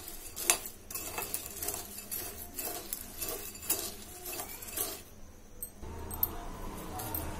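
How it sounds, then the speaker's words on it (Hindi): A spoon stirs spices through homemade chana dal namkeen in a bowl, giving a steady stream of close, light scraping and clinking with small rattling taps, no talking. "अब हम अच्छी तरह से इसमें मसाले सारे मिलाऊंगी।"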